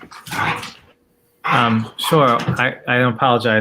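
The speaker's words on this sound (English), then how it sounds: "so if you hear barking, that's them playing around." Dogs bark and yelp in the background of a virtual webinar on HIV care, mixed under a person's speech in short bursts.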